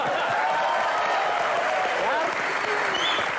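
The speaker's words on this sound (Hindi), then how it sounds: "तो एक बार फवाद के लिए जोरदार तालियां।" Loud, dense applause from a studio audience cheering for Fawad on a comedy show, a steady wash of clapping that fills the whole stretch, with faint voices mixed in underneath.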